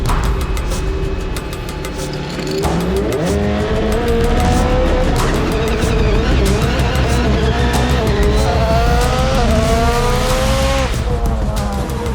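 A hill climb race car engine roars loudly, revving up and shifting repeatedly as it accelerates hard uphill, the pitch climbing and dropping through the gears.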